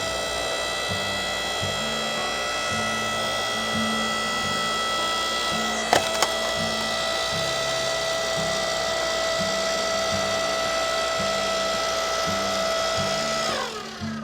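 Ryobi 5 ton electric log splitter running with a steady motor whine and periodic mechanical pulsing, a sharp crack of splitting wood around the middle, then the motor winding down at the end.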